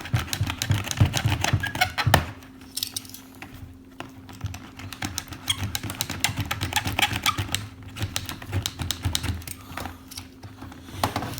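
Toy packaging for a Micro Machines Super Van City set is cut and picked at, a dense run of close, quick clicking, snipping and scraping sounds with brief pauses and no talking.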